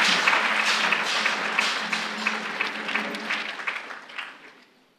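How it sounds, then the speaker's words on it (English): Applause from an audience at a closing ceremony in Abuja, a sustained wash of many hands clapping that holds steady and then tapers off toward the end. "Can we please give him one more round of applause?"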